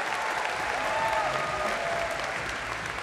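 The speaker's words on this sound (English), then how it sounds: "Give him a huge round of applause." Audience applause at a crowded gaming convention hall, a steady dense wash of clapping that holds at an even loudness throughout, with no talk over it.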